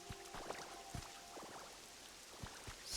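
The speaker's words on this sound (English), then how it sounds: "Oh, it's raining." Rain falls in Pokemon Pokopia as a soft, steady patter with scattered distinct drops, quiet and continuous.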